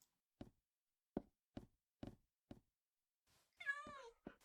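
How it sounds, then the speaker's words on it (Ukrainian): A cat in a video game meows with a short, bending cry near the end, after a series of soft, evenly spaced knocks or taps. "Я злякався, що кіт почав мурчати."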